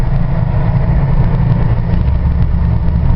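A 1966 Plymouth Barracuda with a 273 V8 pulls away in drive, its engine a steady, loud low rumble that holds unbroken for about three seconds.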